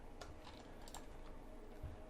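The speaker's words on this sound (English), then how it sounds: "I can nudge it with my arrow keys." Light clicks of computer keyboard arrow keys tapped several times in an irregular rhythm, close by and quiet over a faint room hiss.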